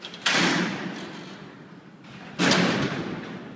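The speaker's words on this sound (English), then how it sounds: "Has anybody ever heard the sound of these doors before?" Two heavy steel cell doors at Alcatraz prison slam shut in turn, each a loud, close metallic crash with a long ringing decay through the cellblock.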